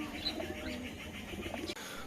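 Pigeons in a loft give soft, low cooing calls over a quiet background, with a brief higher chirp early on; the birds sound moderately close but faint.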